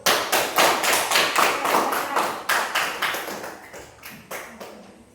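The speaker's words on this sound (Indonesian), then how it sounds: "kita beri tepuk tangan untuk kelompok 1" Classroom applause for a group of students: a dozen or so rhythmic, fairly close bursts of clapping in a steady beat, fading over the last second.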